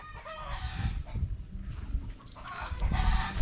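Chickens cluck and squawk in repeated bursts close by, with a rooster-like call rising twice amid rustling, busy farmyard noise.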